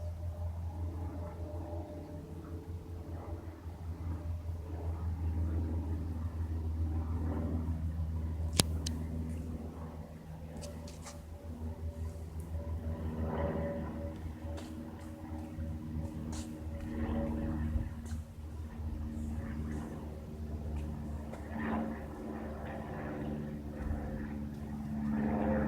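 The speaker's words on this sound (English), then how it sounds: "Here comes the Cessna with the blue black belly." A Cessna light aircraft with a white fuselage and blue-black belly approaches over trees, its engine a steady distant drone with a hollow, whistling tone that slowly swells with small fluctuations throughout.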